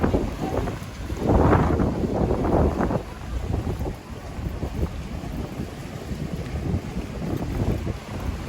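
A strong amihan monsoon wind roars and buffets the microphone as waves surge up to the shore, loud gusts early on easing into a steady rushing churn.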